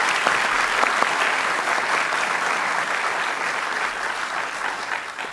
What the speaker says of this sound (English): A final round of applause for both of them for their excellent debate tonight